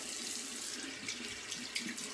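A water tap running into a sink for a cold-water rinse, a steady close hiss of flowing water with small splashy flickers, alone without speech.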